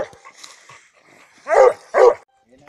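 Two loud barks from a nearby coon-hunting dog after a few softer yips and whimpers, with a short pause between them.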